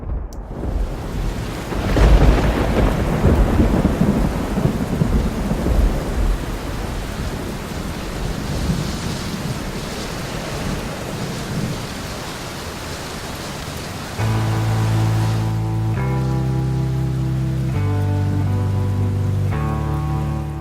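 Steady heavy rain hisses throughout with a deep thunder rumble early on, then a sustained musical tone enters near the end.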